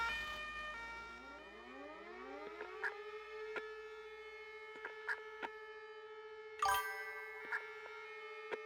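Fire engine sirens wail in the Emergency 4 video game, several tones sweeping up and settling into a steady sustained pitch, with sharp clicks and a brief burst of noise partway through, no talking.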